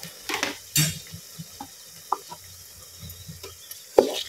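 Ginger garlic paste frying in oil with onions for egg pulusu. A faint sizzle sits under scattered clinks and scrapes of a spoon against the pan, close by, with a louder knock near the end and no speech.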